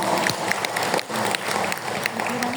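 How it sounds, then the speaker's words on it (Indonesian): An audience of women at a Ramadan gathering claps in a lively burst of applause, uneven and close, with a voice faintly mixed in beneath the clapping. "Tepuk tangan untuk ibu-ibu semua."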